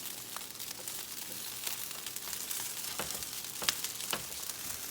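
Onions frying in a pan give a soft, steady sizzle with faint crackles and occasional stirring clicks, quiet and close, with no talking.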